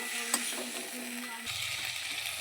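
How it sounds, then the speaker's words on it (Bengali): A spice masala of turmeric and salt fries in a pan for an eggplant and fish curry, giving a soft, continuous sizzle with a low steady hum and a light clatter of stirring. "মশলাটাকে কষিয়েছি"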